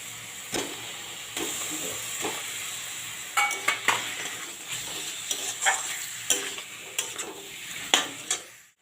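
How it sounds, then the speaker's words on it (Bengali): Chicken pieces going into a well-fried spiced masala of tomato, ginger and onion for chicken posto, with a steady sizzle and repeated sharp scrapes and clatters of stirring in the pan, no talking. "এবার চিকেনগুলো দিয়ে দিচ্ছি"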